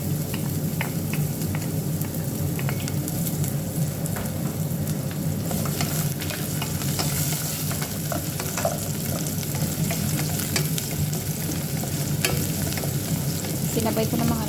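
Garlic, onion and okra sizzle steadily in hot oil in a pan, a continuous loud frying hiss with scattered scraping and stirring clatter throughout, no talking.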